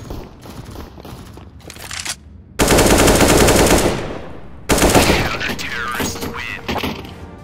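Bursts of automatic gunfire from a video game, loud and sustained, with a long dense volley near the middle and another burst toward the end, separated by quieter stretches of background game sound.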